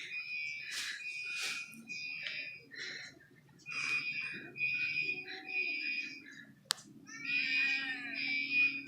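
Household fire alarm sounding in a home with cats, its high piercing beeps and tones repeating steadily through the clip, close and loud, with a sharp click near the middle; a person talks over it at times.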